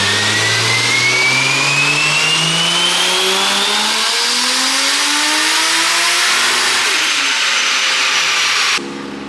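A turbocharged Toyota JZX engine on a dyno, tuned at about 15 PSI on pump gas, revs hard in one long loud pull, the pitch climbing steadily before cutting off abruptly near the end.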